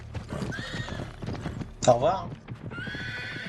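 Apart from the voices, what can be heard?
horse galloping and neighing in video game Uncharted 3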